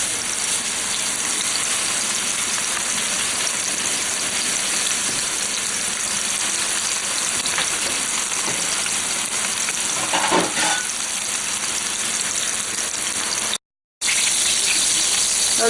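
Salisbury steak patties sizzle steadily in a hot frying pan, a dense, constant crackle filling the whole stretch with a brief gap near the end and no talking.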